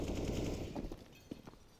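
Rapid rifle fire from an AK in a Counter-Strike match on the Overpass map, a burst of dense shots at first that thins into a few scattered cracks, moderately loud with no talk.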